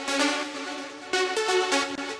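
A bright, sustained synth layer from a melodic techno track holds a buzzy, harmonically rich tone with a couple of note changes, steady and upfront for a couple of seconds.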